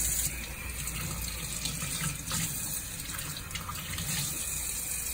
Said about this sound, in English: wash them out the sink, just so you can double check